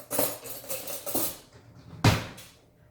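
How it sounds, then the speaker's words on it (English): A regular metal spoon is pulled from a drawer of kitchen utensils, with several close metallic clatters and rattles followed by one sharper, louder clank near the end. "So we'll pull out just a regular spoon"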